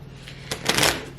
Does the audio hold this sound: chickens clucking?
no